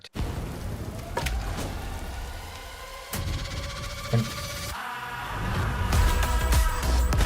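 Steady rain from a movie trailer fight scene hisses throughout, loud and close, broken by several sharp hits and cuts as the scene changes.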